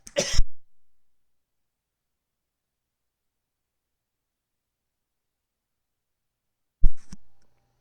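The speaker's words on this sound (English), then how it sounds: "I had to cough real quick and get a drink." A single sharp cough bursts out close to the microphone at the very start, followed by a long silence and then a second brief throat sound near the end.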